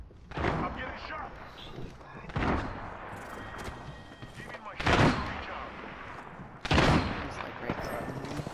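A video game plays a series of loud gunshots and booming blasts, about four sharp bursts spaced a second or two apart, with a continuous din of game noise and voices around them.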